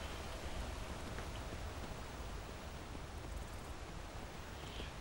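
A waterfall in the Skyrim video game gives off a steady, dense rush of falling water, an even wash of noise with no breaks or voices.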